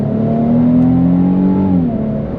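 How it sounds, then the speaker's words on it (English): A 2025 Infiniti QX80 Autograph luxury SUV with a twin-turbo V6 accelerating, heard from close up as a steady engine drone whose tone climbs and then settles, with no talking. "You can hear a little bit of turbo flutter if you focus"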